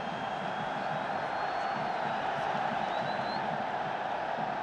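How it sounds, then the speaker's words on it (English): A football stadium crowd at a Valencia versus Real Madrid match produces a steady, distant wash of crowd noise and murmuring as a Mexican wave passes, fairly faint and unchanging throughout. "Meanwhile, the crowd making a Mexican wave."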